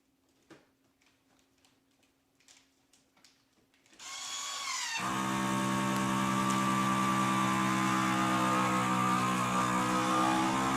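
Sous vide lamb sealed in a bag as a vacuum sealer pulls the air out: faint ticks at first, then a loud, steady motor hum that starts abruptly and holds at close range.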